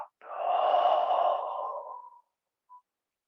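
A person breathes out slowly during qigong practice, one long, soft, airy exhale lasting about two seconds, close and alone, then near silence.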